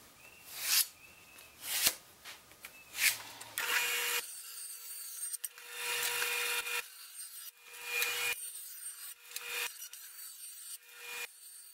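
A wooden board top being smoothed down by hand to remove knots and imperfections, giving repeated dry rasping strokes in uneven bursts with short pauses between passes, close and fairly loud.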